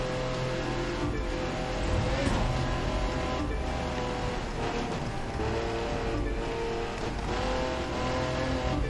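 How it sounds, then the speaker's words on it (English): Car in The Crew 2 racing game accelerating hard with nitro boost, a dense continuous engine roar climbing through gears at high speed, steady and sustained for several seconds with no talk. "I got almost a full tank, been saving that, so we'll click through the gears"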